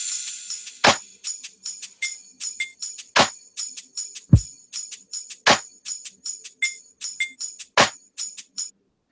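Click track in an Ableton Live scene ticks steadily, with sharp electronic clicks in a regular pattern and stronger accented beats recurring every few ticks, heard alone and crisp.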